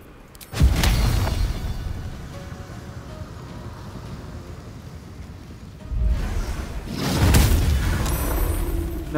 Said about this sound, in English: Stoke a gigantic cinder ball and lob it, bursting in a wide explosion and creating a fiery surface